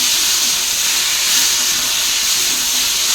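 Ghugni spice masala with green chillies sautés in a pan, giving a loud steady hiss and sizzle throughout, with no voices.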